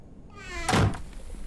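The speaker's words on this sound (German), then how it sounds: "Tür wieder zu." A door in the survival game The Infected closes with a single solid thunk, close and fairly loud, briefly ringing out before quiet room tone returns.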